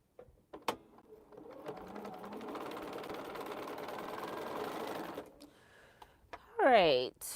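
A Bernina sewing machine runs steadily for about four seconds, a continuous buzzing mechanical whir at moderate level, then stops; a short voice-like sound follows at the end.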